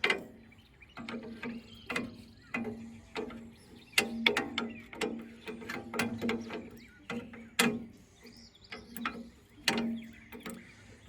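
A ratchet tightens a bolt on a tractor-mounted cultivator, with bursts of quick, close clicking separated by short pauses. The clicks are moderately loud against a quiet outdoor background.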